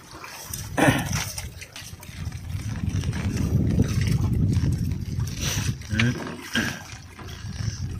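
Rough, choppy sea waves surge and crash against the shore in a loud, continuous broadband roar with several sharper surges, while people talk over the water.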